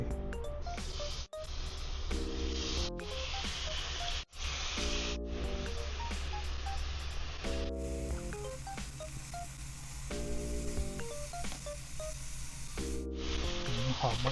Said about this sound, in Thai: กระทะเริ่มร้อน ใส่เนื้อลงไปย่างเลย